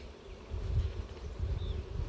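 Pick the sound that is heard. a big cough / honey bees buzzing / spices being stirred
honey bees buzzing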